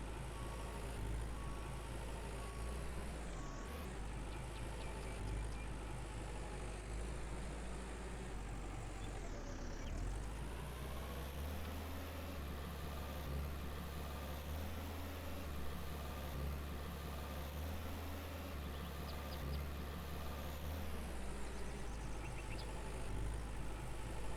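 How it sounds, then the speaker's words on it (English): The strongest tractor in the Farmer's Dynasty farming video game drones with a steady low engine rumble, rising and dipping in pitch a few times as it revs, continuous and fairly close with no other sounds on top. "So I got the strongest tractor there is."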